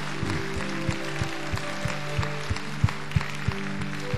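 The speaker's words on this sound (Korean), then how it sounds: "우리 주님 앞에 영광의 박수를 돌리시기 바랍니다." A church congregation claps in a steady rhythmic beat, sharp evenly spaced claps repeating at about three per second, moderately distant and fairly quiet, with a faint voice underneath.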